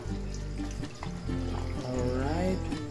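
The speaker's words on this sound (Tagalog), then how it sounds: "Lagantang ko niya ng tubig guys." Water pours into a cooking pot holding canola oil and bangus fish for homemade sardines, a close gurgling stream whose pitch rises as the pot fills.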